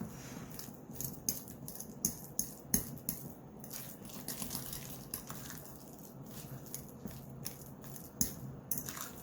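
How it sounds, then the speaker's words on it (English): Ripe bananas mashed with a fork in a bowl for banana bread muffins: soft, wet squashing and crushing with frequent light metallic scrapes and taps of the fork, steady and close throughout. "I think the best way to mash them is just with a fork"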